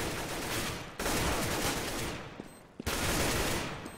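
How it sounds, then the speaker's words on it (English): Rapid automatic gunfire bursts loudly in Counter-Strike on the de_dust2 map, two dense volleys separated by a short gap, with sharp single shots in between. "Nice headshot. Good shot."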